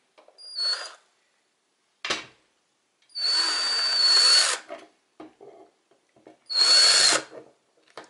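Several bursts of a power drill driving screws whirring near and loud while disassembling an 1898 Belgian Damascus double-barrel 12-gauge shotgun, two long runs and a short one, separated by brief clicks and pauses.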